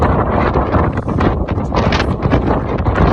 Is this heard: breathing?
no